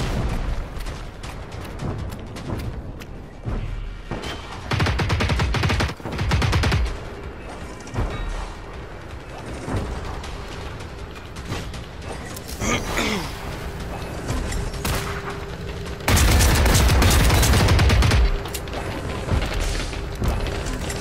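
Gunfire in the video game Generation Zero, bursts of rapid shots in separate volleys with mechanical clatter between them, one long loud burst near the end.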